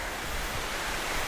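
Rushing water of a waterfall along a hiking trail at Hanging Rock State Park, North Carolina, heard from the top as a steady, dense broadband roar with no breaks.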